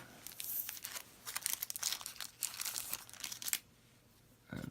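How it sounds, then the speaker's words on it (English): Foil wrapper of a Star Wars Customizable Card Game booster pack, Empire Strikes Back set, being cut and opened: close, loud crinkling and tearing in irregular bursts for several seconds, then a brief pause and a final rustle. "then we got the booster pack here. We're gonna cut that open."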